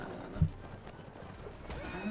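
Horse hooves clip-clopping in Mount & Blade: Warband, faint and muffled under a noisy game soundscape, with one sharper thud near the start and no talking.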